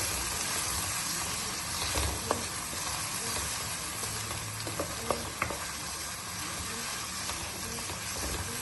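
Roughly chopped tomatoes, two medium ones, sizzle and fry steadily in hot oil for masoor dal, a constant dense hiss with a few faint utensil clicks and stirring sounds.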